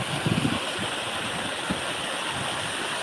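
Water rushes and flows steadily after a night of heavy rain, a broad, even roar that stays constant throughout, with a few faint low murmurs near the start.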